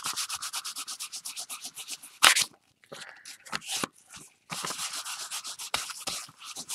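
Rapid rhythmic sanding strokes rasp across layered paint on a painted heart, pausing briefly midway before the brisk back-and-forth scrubbing resumes, close up and with no speech.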